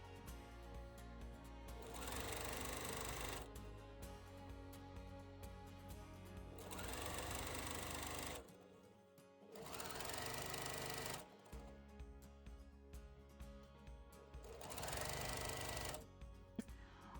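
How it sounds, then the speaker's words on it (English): Sewing machine stitching fabric wrapped around piping cord for a curved pelmet, using long stitches; bursts of steady mechanical whirring run a few seconds each, separated by short pauses, close and fairly loud. "Just wrap the fabric around our piping cord and stitch."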